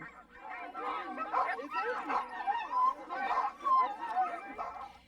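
Sled dogs in Tanana, Alaska, barking and whimpering in a busy overlapping chorus at moderate distance, rising and falling in short bursts.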